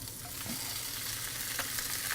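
Tomatoes going into a hot pan of garlic for a tomato gratin, with a steady soft sizzle and a few stirring scrapes over about two seconds and no talk.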